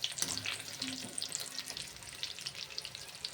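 Curry leaves sputter in hot oil in a home kitchen, a close, crackling sizzle with bright irregular pops that is loudest at first and settles into a softer frying hiss.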